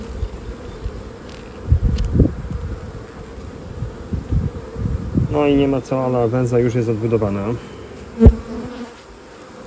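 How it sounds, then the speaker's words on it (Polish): Honey bees buzz steadily around an open hive frame with fresh foundation while someone talks in Polish over the hum, with a few handling knocks. "Pszczoły wiszą pod ramką."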